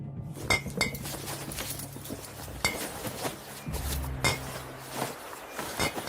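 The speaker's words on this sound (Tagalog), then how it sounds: "Umalingaw-ngaw ang tunog ng mga bote ng langis nung binuksan ko ang kahon." Glass bottles of oil clink against each other in an opened box, giving scattered bright chinks and rattles with some dull knocks and scraping, close and moderately loud, with no talking.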